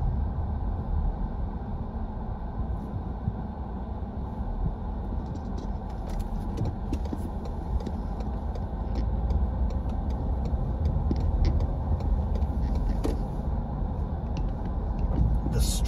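A car drives through historic downtown Galveston, Texas, with a steady low road and engine rumble and faint scattered ticks and clicks running throughout, no voices.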